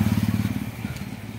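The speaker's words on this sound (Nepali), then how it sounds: "बाइक आउँदैछ" A motorcycle on a city street in Dharan, Nepal, rumbles past close by with a pulsing low engine chug that softens slightly as it moves on.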